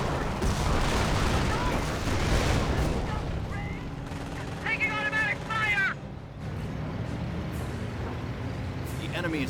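Squads trading fire in a Company of Heroes 1 match, Wehrmacht against US forces, an MP40-armed squad engaging a rifle squad: dense, rolling bursts of rifle and machine-gun fire with distant booms, under a commentator's voice.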